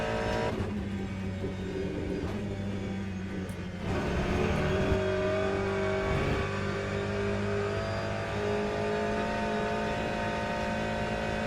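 Race car engine in the Le Mans Ultimate sim racing game, a sustained loud drone that climbs through the revs and surges harder partway through, steady and close with no talk over it.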